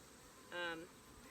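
A single honeybee buzzes close by for a brief moment during an inspection of an opened hive, a short whining drone rising out of a quiet background.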